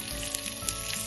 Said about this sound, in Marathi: आपण फोडणीची तयारी करूया